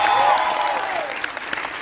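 A crowd gives a short burst of applause that is loud at first and then fades. A voice is briefly heard at the start.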